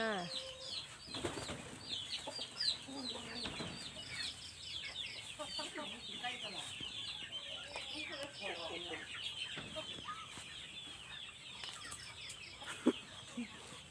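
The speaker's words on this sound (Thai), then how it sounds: "อันนี้ไก่ดำค่ะ" Black chickens cluck and chatter nearby, with some wing flapping and a busy farmyard background; a faint voice may be present.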